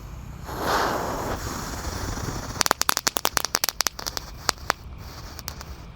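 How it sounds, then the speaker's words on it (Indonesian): A hissing blue fountain firework ignites, then breaks into a rapid, irregular series of sharp crackling pops that gradually thin out, close and fairly loud. "disco yang pretek guys, yang warna biru. Sudah menyala."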